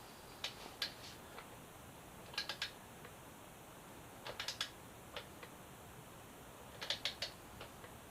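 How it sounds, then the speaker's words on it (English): A torque wrench ratchets in short clustered bursts of clicks while tightening a frame slider bolt on a Yamaha FZ6R motorcycle, set to 32 foot-pounds. The clicks are close but soft, with quiet pauses between bursts and no talk. "let's torque this in"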